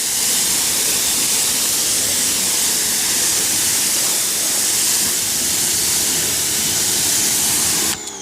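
A steady, loud water spray hoses down a camper cargo box, a continuous broadband hiss running unbroken for the whole stretch with no talking.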